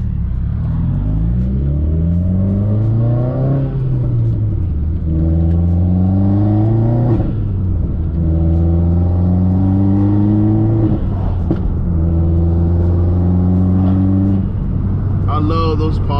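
A turbocharged Subaru WRX with over 400 wheel horsepower revs loudly and repeatedly from inside the car, its engine note climbing and falling in steady waves, with turbo whoosh and flutter and a sharp pop near the end.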